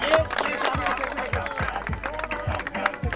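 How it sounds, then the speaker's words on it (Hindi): Applause from the crowd at a cricket tournament awards ceremony greeting a prize presenter on stage, a continuous clapping wash with low thumps recurring at a steady beat and a voice heard faintly over it. "आपकी भरपूर तालियों में"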